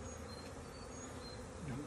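A bee swarm buzzes together in a constant, even hum, with a brief higher whine of one bee passing close.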